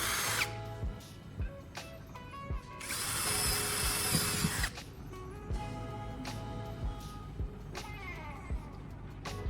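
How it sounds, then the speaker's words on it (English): A drill whirs in a sustained burst into a wooden base, with short clicks, taps and intermittent buzzing of tools around it, fairly quiet and close. "Now, I'm drilling holes into the wooden base,"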